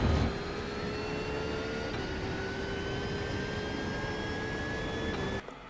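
Simulated Porsche 992 GT3 engine in iRacing at Oulton Park, a steady high-pitched whine climbing gradually under throttle with a brief shift dip, continuous and alone before cutting off at the end.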